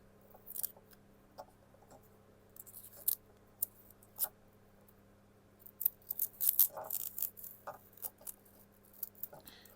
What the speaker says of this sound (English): let's see if we can find the edge of the tape here